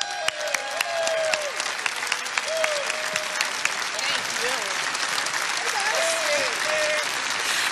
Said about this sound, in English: Keep your applause going for the Honorable Ashley Hinson